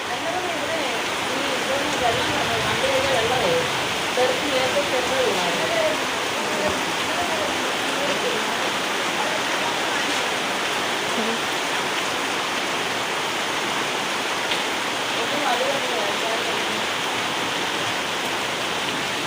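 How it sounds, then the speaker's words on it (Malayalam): Heavy rain pours down in a dense, continuous hiss, loud and unbroken throughout, with faint voices buried beneath it. "അടിപൊളി മഴ."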